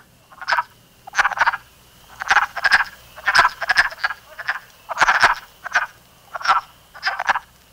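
Male wood frogs chorus in close, loud quacking croaks, short bursts repeating roughly every half second, some overlapping, with no talking.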